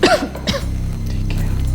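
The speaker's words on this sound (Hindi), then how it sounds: "फिक्र मत कीजिए, मामूली खांसी है" A person gives a mild cough, a couple of short throaty bursts up close, trailing into a low murmur of breath.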